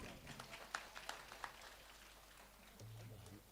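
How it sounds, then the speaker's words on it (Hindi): Applause at an outdoor devotional Manas singing gathering: a thin scatter of claps that thins out and fades over a few seconds, faint and distant, with a low hum near the end. "और जोरदार ताली बजा दे"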